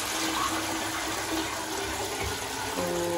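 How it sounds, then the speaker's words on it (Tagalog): A household toilet flushing after cleaning with bleach, a loud, steady rush of swirling water that fills the whole stretch at close range, with no voices over it. "Flush natin. Para talagang malinis."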